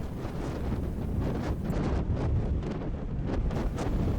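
Strong North Sea headwind buffeting the microphone on a bikepacking tour in stormy weather, a loud continuous roar with gusting rumble throughout, no voices.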